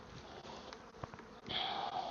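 Honeybees swarm at a hive, a faint, steady buzzing drone heard outdoors that thickens and grows a little louder toward the end.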